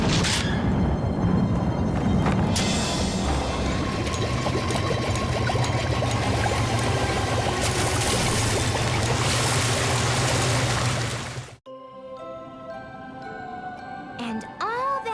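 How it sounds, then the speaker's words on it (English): A cartoon fountain sprays water in a steady, loud rushing hiss mixed with blowing wind on a cold night, running continuously before cutting off abruptly near the end, leaving a few quiet tonal sounds. "all that night, the fountain sprayed and sprayed, and the wind blew and blew"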